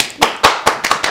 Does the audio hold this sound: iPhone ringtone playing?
no